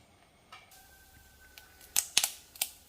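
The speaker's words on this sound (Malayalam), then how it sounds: "കടുക് പൊട്ടി" Half a teaspoon of mustard seeds sizzles in hot ghee, giving a few scattered sharp pops that come faster and louder toward the end over a faint, quiet background.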